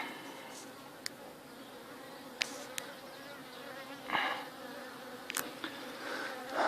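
Bees hum at a hive in an apiary in mid-June, a steady low drone with individual insects zipping past close to the microphone in short, brighter buzzes.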